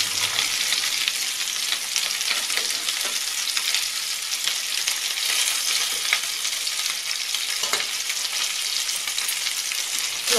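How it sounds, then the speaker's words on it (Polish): Meatballs fry in about a spoonful of butter in a hot pan, giving a steady, loud, dense sizzle with faint crackles throughout and no talking. "Będę je smażyć na rumiano ze wszystkich stron."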